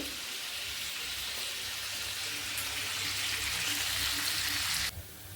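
Chicken pieces fry in a pan of hot oil after being turned over, giving a dense, steady sizzling hiss that holds evenly for several seconds and then drops off abruptly near the end. No one talks.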